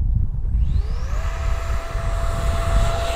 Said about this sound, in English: Let's show them a short takeoff run, shall we? Here we go, short takeoff.